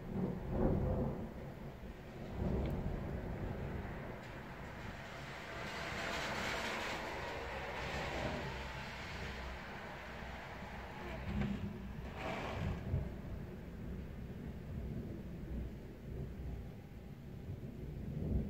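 Thunder from a passing thunderstorm rolls in low, sustained rumbles that swell and fade over many seconds, distant and fairly faint, with no clear speech.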